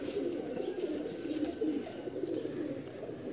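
Rampuri-coloured flying pigeons at a pigeon keeper's loft, cooing in soft, repeated low throaty calls against a steady faint background.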